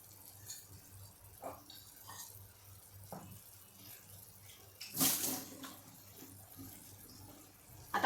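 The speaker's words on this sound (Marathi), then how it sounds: "कपानेच मोजून मी पाणी टाकते आहे" Measured cups of hot water poured into a pot of rice and baby potatoes, soft intermittent pouring and splashing with one louder gush midway, fairly quiet overall.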